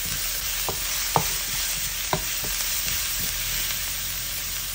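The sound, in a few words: stirring garlic and butter frying in a pan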